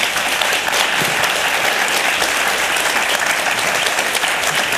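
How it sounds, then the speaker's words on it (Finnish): A conference crowd applauds panelists steadily and loudly, a dense wash of clapping that holds throughout without a break. "Isot aplodit vielä panelisteille."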